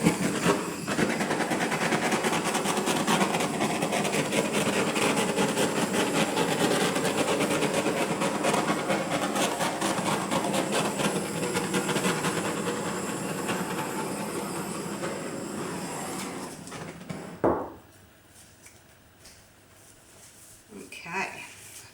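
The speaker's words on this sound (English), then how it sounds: "Just going to give it a quick torch." A handheld torch flame hisses loud and steady across a silicone-oil acrylic paint pour in brown tones, roaring for about seventeen seconds before cutting out abruptly into near silence with faint handling sounds.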